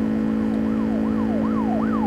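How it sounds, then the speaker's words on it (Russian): An ambulance siren from the driving simulator game City Car Driving wails in repeated rising and falling sweeps over a loud, steady engine drone, with no talking. "Смотрите, скорая."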